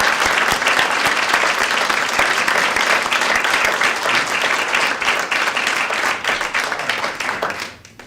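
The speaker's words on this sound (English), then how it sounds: "I was just hoping that we could applaud Jerry" An audience at an awards ceremony gives Jerry Carlson Jr. a dense, steady round of applause that holds strong for several seconds before fading out at the end.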